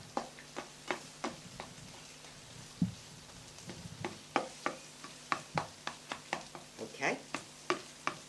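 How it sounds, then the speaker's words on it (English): Repeated sharp taps and scrapes of a spatula chopping egg fried rice in a hot pan, about a dozen strikes in an irregular rhythm over a soft sizzle, fairly quiet and close. "Chop it up with a spatula, like so"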